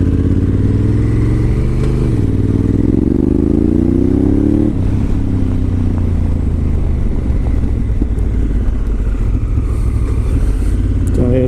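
A Honda Africa Twin fitted with an aftermarket exhaust rides along, the engine droning loud and close with rising and falling pitch as it accelerates and shifts gears, no talk over it.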